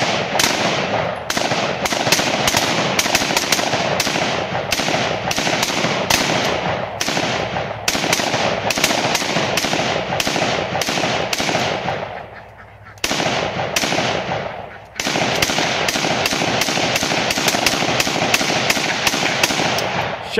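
Rifles including an AK-47, SKS and AR-15 fire outdoors at a tree in loud, rapid, overlapping shots, rattling near-continuously with brief pauses around the middle before the volley resumes.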